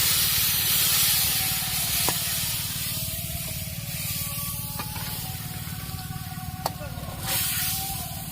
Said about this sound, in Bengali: এবার এই ফোড়নে দিয়ে দেওয়া হলো কিছুটা ডাল।